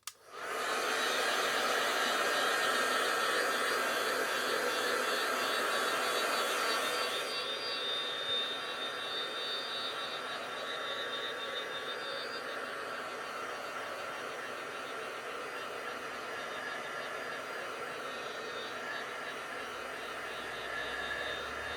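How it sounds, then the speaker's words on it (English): A heat tool blows hot air over a handmade craft card, a steady loud whooshing drone that holds strong for about seven seconds, then continues slightly softer and lower to the end. "Maybe I should just dry it with the heat tool"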